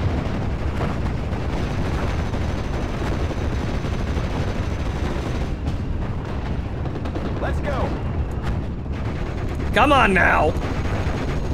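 Artillery and gunfire in the Steel Division Normandy 44 war game, a steady rumbling barrage with distant blasts under shouted voices, plus a sharper burst near the end.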